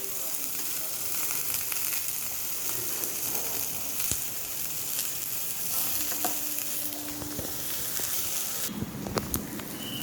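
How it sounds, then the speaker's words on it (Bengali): Capsicum, onion, garlic and tomato puree frying together in a pan, giving a dense, steady sizzle with occasional stirring clatter and brief sharp clicks, heard close up. "আমার এই ক্যাপসিকাম পেঁয়াজ রসুন টমেটো পিউরি সব ভাজা হয়ে এসছে"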